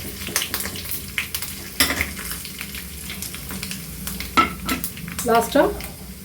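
Fenugreek, cumin and asafoetida tempering in hot oil in a pressure cooker for brinjal kosthu, a steady close sizzle and crackle with spoon stirring scrapes and a few clinks of the pan.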